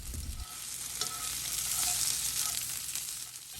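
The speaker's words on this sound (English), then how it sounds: "I usually cook my potatoes about halfway through before I add in the onions" Potatoes and onions frying in a pan give a steady, close sizzle that holds throughout, with a few faint scraping touches and no voices.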